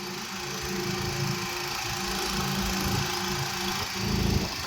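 A motorboat's engine runs steadily, giving off a continuous droning hum with a slight rise in loudness near the end. No one speaks.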